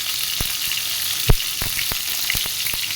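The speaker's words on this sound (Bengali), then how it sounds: "পটলটা ভালো করে ভেজে নেব" Pointed gourd frying in oil in a pan with salt and turmeric: a steady close sizzle dotted with sharp spitting pops and crackles, one louder pop standing out, no talking.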